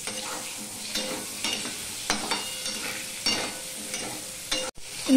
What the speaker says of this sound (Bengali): এবার আমি মিষ্টি কুমড়োগুলো দিয়ে দিচ্ছি। মিষ্টি কুমড়োগুলো একটুখানি ভেজে নেব।